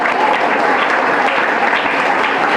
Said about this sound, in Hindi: इनके लिए ताली बजाएंगे